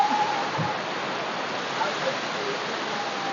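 The Pullu Para waterfall roars in a constant, full rush of falling water, loud and close, with a small splash near the start.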